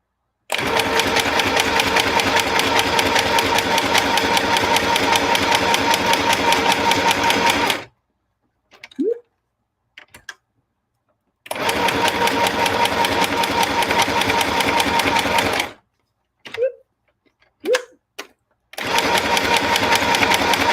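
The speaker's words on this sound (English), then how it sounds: "Got a little cutter thing here." An electric craft cutting machine runs loud and steady in two long stretches with a quiet gap between them, where a few brief clicks and small mechanical sounds are heard before it starts up again.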